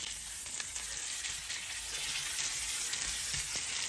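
A chicken breast sears in a stainless steel pan while being basted after the flip, giving a steady, close, loud sizzle and frying hiss that continues unbroken with no talk.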